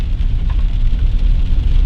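Steady, loud rain hisses without a break in a foggy outdoor spot in the woods, with a dense low rumble underneath and no clear separate drops.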